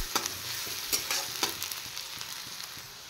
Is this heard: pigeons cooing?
no